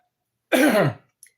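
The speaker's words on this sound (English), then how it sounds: "You have to cough a lot." One harsh, throaty cough, close and loud, followed by a faint small sound and then silence.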